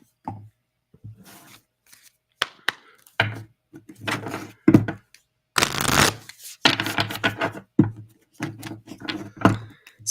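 Tarot cards shuffled and pulled during a live reading session, giving bursts of papery riffling and soft slaps at close range, interrupted by brief pauses over about ten seconds with no talking.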